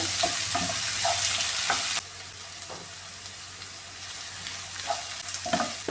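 Shallots frying in oil for a potato mezhukkupuratti produce a dense, bright crackling sizzle that drops slightly in loudness partway through, with occasional spoon knocks and stirs, close up and without speech.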